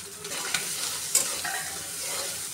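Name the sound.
shrimp frying with turmeric, salt, onion and green chilli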